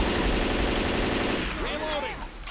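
Rapid, loud bursts from a mounted machine gun in the video game Left 4 Dead 2, a steady rattling stream that fades out, with voices talking over it.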